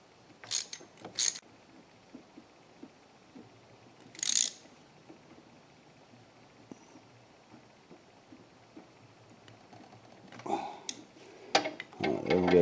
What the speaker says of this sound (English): A little ratchet here.